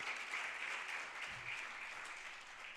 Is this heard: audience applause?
yes